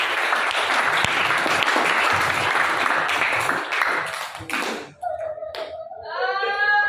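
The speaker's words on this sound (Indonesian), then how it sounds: "Tepuk tangan dong, tangan." An audience claps hands in a dense, lively burst for about five seconds before it breaks off, followed by a short tonal voice-like sound and a rising whistled tone.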